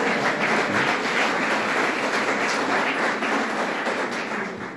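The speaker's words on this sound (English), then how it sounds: "Give him a round of applause," An audience applauds Dr. Hutton at a Utica event with Governor Cuomo and local elected officials, dense steady clapping from a crowd filling the room, tapering slightly at the end.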